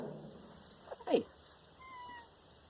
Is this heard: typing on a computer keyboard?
no